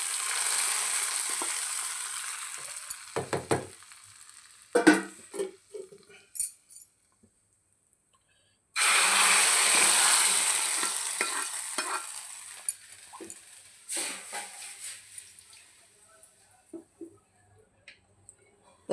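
Tempering spices for mutton paya (aatu kaal) hit hot oil with sharp bursts of sizzling and spattering, then a long loud sizzle that fades into scattered crackles and light clinks.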